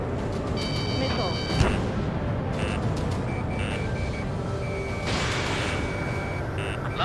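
Missile lock warning beeps sound from the Ace Combat 7 jet combat game as repeated high electronic tones over a dense, continuous roar of jet engine and battle noise.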